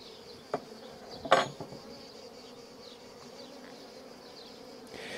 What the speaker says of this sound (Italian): come vedete le api